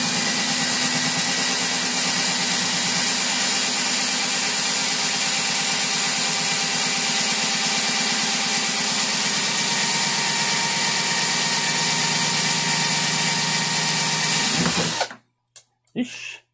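A cordless electric screwdriver spins a part against another in an attempt at friction welding, giving a loud, steady whine with grinding friction that runs continuously before cutting off abruptly, followed by a couple of brief bursts.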